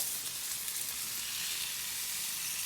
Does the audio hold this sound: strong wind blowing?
no